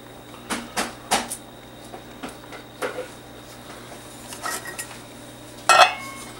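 A metal nut is screwed back onto a microwave essential oil extraction kit, giving a close series of sharp little metallic clinks and taps, unevenly spaced, with a final louder rattle.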